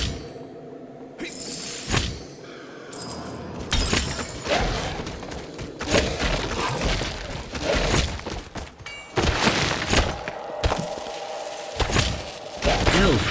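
A summoning object is smashed in the video game Gauntlet amid a chaotic mix of thuds, crunches, shattering hits and whooshes, with loud repeated bursts and a voice briefly audible.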